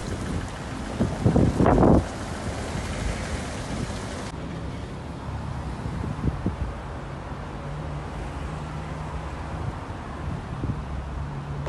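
Strong gusty wind roars continuously outdoors on a city street, with a loud burst of rough buffeting early on before settling into a steady, noisy rush.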